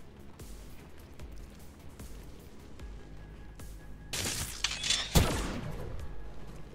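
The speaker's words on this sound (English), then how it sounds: "Taking heavy fire." Heavy gunfire in XCOM 2: a low, steady rumble of distant shooting builds into a louder burst of several sharp, close shots near the end.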